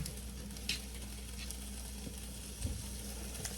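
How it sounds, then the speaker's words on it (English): Bacon sizzles steadily in a pan, a constant crackling hiss with occasional soft pops and clinks, close up and without talk. "I got the bacon sizzling."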